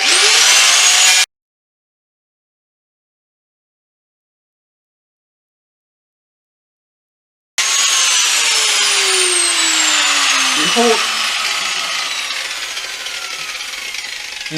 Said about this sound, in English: we're just going to smooth off these areas that we don't want